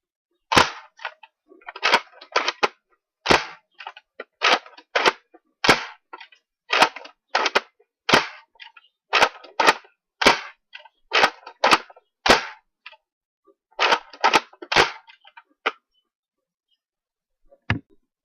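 A Nerf Recon CS-6 toy blaster fires foam darts in a rapid series of sharp, loud snapping shots with short irregular pauses, then a final lone shot after a brief silence.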